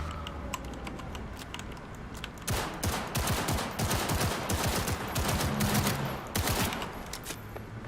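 Rapid bursts of gunfire from the video game Cyberpunk 2077, a dense run of sharp, close shots firing in quick succession over several seconds, loud and without talk.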